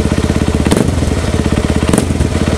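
A motorcycle fitted with a Juken 5 ECU idles steadily and close by, its low pulsing rhythm broken by two brief revving bursts.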